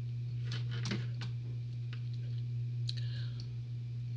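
Computer mouse clicks while editing in Final Cut Pro, a few faint, sharp clicks spaced irregularly over a steady low electrical hum, with no voice.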